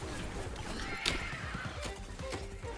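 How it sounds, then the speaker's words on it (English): A giant horse in the game Temtem Swarm lets out a loud, close whinny and stomps repeatedly over busy, dense game sound. "Giant horse is mean."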